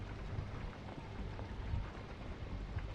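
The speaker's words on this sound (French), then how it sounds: "là, il pleut" Steady rain falls throughout a scene in The Walking Dead Season 2 Episode 1 video game, a dense, even hiss with scattered drops and no voices.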